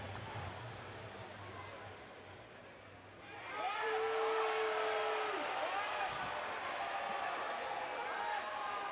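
Arena crowd at a National Lacrosse League game between the Rochester Knighthawks and Philadelphia Wings swells into loud shouting and whoops, a whistle sounding briefly amid the roar, while a commentator talks over it.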